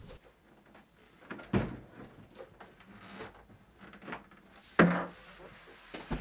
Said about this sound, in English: remove the top door and place it to one side